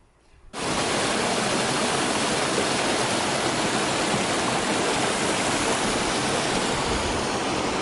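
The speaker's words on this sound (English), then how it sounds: "we just had a water break at this lovely stream" Steady, loud rushing of a stream flowing on a hillside walking route in Cumbria, starting abruptly after a brief quiet moment and continuing unbroken and close throughout.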